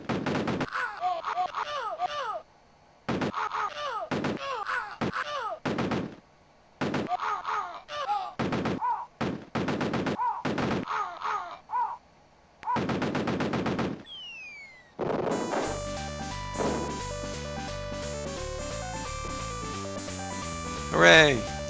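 Gunfire from a DOS-era video game as enemies are shot repeatedly, sharp bursts of shots broken by short pauses, followed by game music and chimes toward the end.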